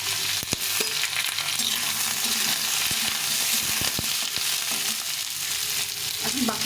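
Potatoes and eggplant frying in oil with bay leaf, a loud continuous sizzle broken by sharp clicks and knocks of stirring, close and with no voice.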